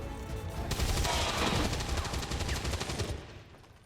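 Rapid automatic gunfire from a soldier firing at an enemy in XCOM 2, a dense burst of repeated shots lasting about three seconds, loud and close, then fading away.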